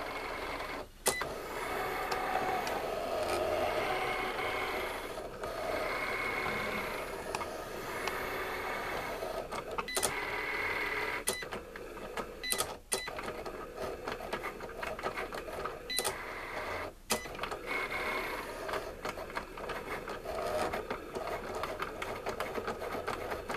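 An electronic paper cutting machine cutting out a turkey shape for a Thanksgiving place card, a steady close whirring hum with a busy motor buzz and brief clicking pauses as the carriage shifts, no talking.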